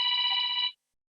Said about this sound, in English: I'm sorry about my phone ringing